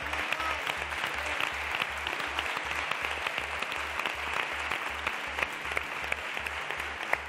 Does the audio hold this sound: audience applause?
yes